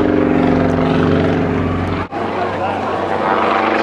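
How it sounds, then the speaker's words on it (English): Matadors display team aircraft flying low at the Shoreham airshow, a loud steady propeller engine drone that drops out abruptly, with a commentator talking over it. "the aircraft only just beginning to descend"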